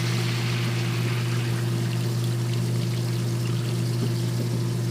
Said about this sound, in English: And this is hot water that I added.